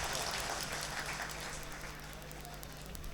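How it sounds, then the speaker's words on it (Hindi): Applause from a mushaira poetry recital audience in Siwan, Bihar, a dense, steady wash of many hands clapping at once, fairly distant and continuous for a few seconds with no voices over it. "एक बार ताली बजाएंगे साहब?"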